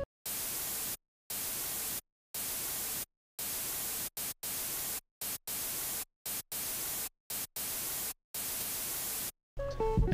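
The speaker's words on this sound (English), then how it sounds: "I added the same static loop, except I didn't lower the volume, so I just kept it like this as a percussion" A static noise loop used as percussion in a music track pulses in loud bursts of broadband hiss, chopped by short silent gaps into an uneven rhythm, and a brief different sound enters at the end.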